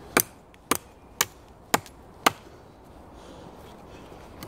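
A steel ELMAX knife chops in an outdoor test: five crisp, sharp cuts in an irregular rhythm over the first half, close and clear, then quiet background noise.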